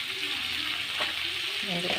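Chopped tomatoes with turmeric fry in a pan for bitter gourd stir-fry, with a continuous close sizzle and crackle, a faint voice briefly murmuring near the end.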